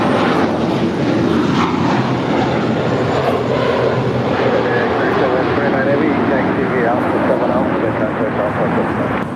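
A FedEx Airbus A300 roars at Los Angeles airport, a loud, sustained engine rumble with rising whine, while voices talk over it throughout.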